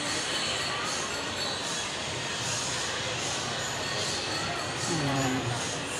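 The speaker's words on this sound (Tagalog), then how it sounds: "May train pala dito guys, naligaw train yata to dito sa galing sa Caloocan" A small ride-on train rolls through an SM Marilao shopping mall, giving a low mechanical rumble with a brief squealing, whistle-like tone near the end, set against a constant wash of crowd noise and reverberant indoor ambience.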